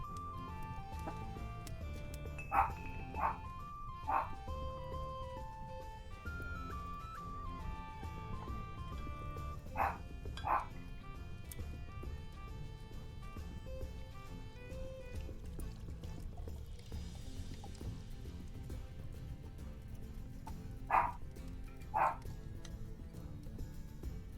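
A dog barks in the background in short clusters of two or three sharp yips, spread across the stretch with long pauses between, faint behind quiet indoor noise and some tonal background sound.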